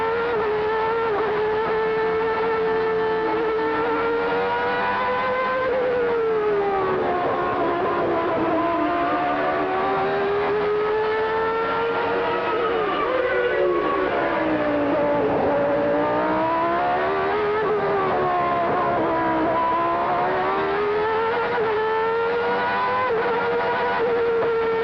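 From onboard Alain Prost's McLaren Formula 1 car at the 1989 Spanish Grand Prix, a loud, high-revving engine screams continuously, its pitch climbing and dropping with each gear change and corner, with no talk.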